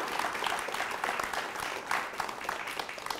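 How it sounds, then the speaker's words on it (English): An audience at a Café Scientifique science talk gives a round of applause, steady moderate clapping throughout the short stretch. "Please, a big round of applause."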